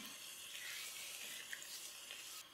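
Fried onions tipped into a pan of pulao spices over lowered flame give a soft, steady sizzle, faint and close, with no talk.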